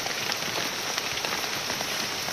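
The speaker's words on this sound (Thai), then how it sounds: "ฝนตกร้ายพี่น้องเอ้ย เปียกเบิดเลยต้นโตนี่" Heavy rain pours down in a forest around a banana-leaf shelter, a dense, even hiss of drops striking leaves and ground, close and unbroken throughout.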